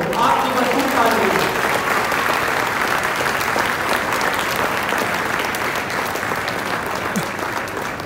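Sustained, dense audience applause fills a hall at a World Pharmacists Day gathering of a young pharmacists community, steady and loud throughout with a murmur of crowd voices underneath.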